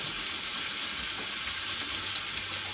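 Food frying in a pan on a Camp Chef Deluxe stove at a stealth campsite makes a dense, even sizzle that stays constant and close for the whole stretch, with no voices.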